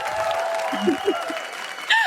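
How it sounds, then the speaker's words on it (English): Audience applause greeting a guest on a health-themed talk show, a brief steady patter of clapping from a small crowd with a voice speaking over it. "give a very warm round of applause to Dr. Lauren Deville"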